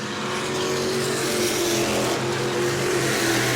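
Modified race cars roar through turn 3 at New Smyrna in a close battle for the lead, a dense sustained engine drone at loud, steady level with no gaps.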